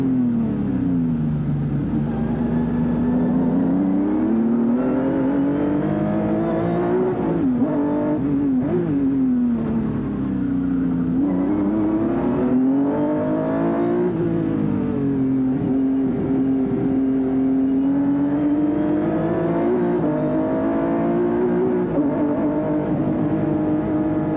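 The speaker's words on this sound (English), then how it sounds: "Listen to the gear changing." A 1990 American Racing Series race car engine roars continuously up close at Toronto, its pitch climbing and dropping repeatedly as it shifts gears and brakes at the end of the back straight, with no voices.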